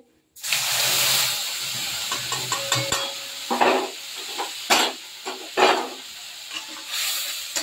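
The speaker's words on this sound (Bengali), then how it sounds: "এইখানে আমি একটুখানি জিরে ফোড়ন দিয়ে দেবো, দিয়ে দেবো মশলাটা" Cumin seeds and a prepared spice paste hit hot oil in a pan while cooking koi fish with cauliflower, giving a loud, steady sizzle broken by repeated clinks and scrapes of a spoon stirring against the pan.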